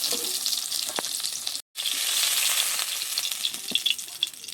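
Bhola fish sizzle in hot oil as they are lifted out of the pan, a steady crackling fry with scattered pops and a momentary break in the middle.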